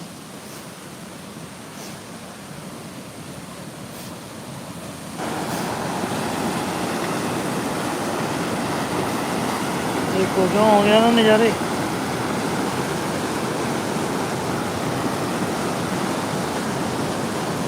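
A steady hiss of rushing water grows suddenly louder partway through and stays strong, with someone speaking briefly over it.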